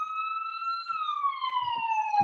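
An ambulance siren wails loud and clear, holding a steady tone before sliding downward, with a few soft low thumps underneath and no talking.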